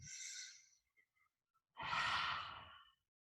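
Forceful yoga breathing: a loud, breathy exhale up front, then near silence with faint traces, followed by a second strong, rushing breath close to the listener.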